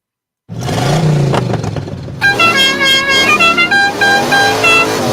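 A toy Dukes of Hazzard car plays its horn effect: a brief engine-like rumble first, then a loud, steady melodic horn tune of several stepped honks that fills the rest, with no talking.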